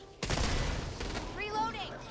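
Dense, loud gunfire erupts abruptly in the co-op shooter game Back 4 Blood, a rapid fusillade continuing through the clip with game effects trailing near the end.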